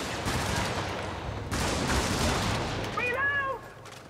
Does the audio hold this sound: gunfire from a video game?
yes